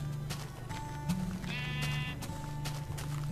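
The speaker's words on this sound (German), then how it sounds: "Ein Schaf." Grey sheep in Minecraft bleating once, a wavering mid-pitched cry close by, set against soft background music with a steady tonal hum.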